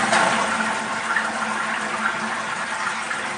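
A normal water closet flushing, heard as a steady, full rush of water that runs continuously without a break at moderate level, alone and with no voices.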